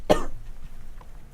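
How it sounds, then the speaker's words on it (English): A single sharp cough rings out at the start, close to the microphone, followed by quiet room tone and a faint click near the end. "excuse me while I cough"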